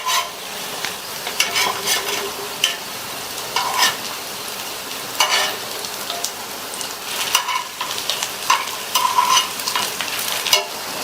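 Potato pieces frying in a pan, turned side to side, give a continuous bright sizzle close by, with intermittent scrapes and soft knocks from the turning spoon and no talk.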